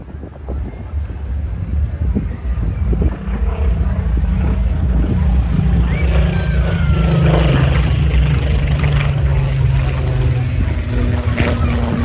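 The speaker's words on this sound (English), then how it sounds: "I do like the sound of a Griffon engine as well." A Spitfire Mark 19 with its Rolls-Royce Griffon engine passes overhead at a memorial flight display, a loud, steady, broad engine drone filling the whole stretch while wind buffets the microphone.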